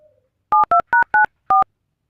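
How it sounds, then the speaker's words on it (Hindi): Five short electronic dial tones beep in quick succession, clean and close, with silence between them. "फोन लगाओ।"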